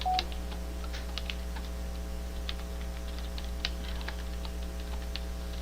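Typing on a computer keyboard while coding in Python, a steady patter of light, close key clicks with irregular bursts, no speech over it.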